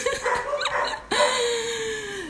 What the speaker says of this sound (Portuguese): tá muito alto o barulho dos cachorros